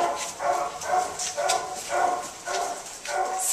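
Dog on a leash making repeated excited barks and whimpering yips in a steady rhythm of about one bark every half second, close and fairly loud, as it is walked out of a kitchen toward an outdoor parking lot.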